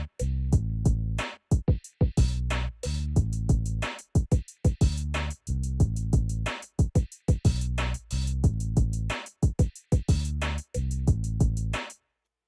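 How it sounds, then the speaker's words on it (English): Boom bap drum beat with punchy kicks, snares and hi-hats playing together in a steady looping pattern, loud and dry with short gaps between hits, no voices. "So all together, the drums sound like this."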